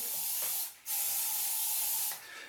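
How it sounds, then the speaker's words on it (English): Two bursts of TRESemmé hairspray hissing from an aerosol can onto a hair system, close and steady, separated by a short pause, with a fainter third spray at the end. "Then I spray hairspray"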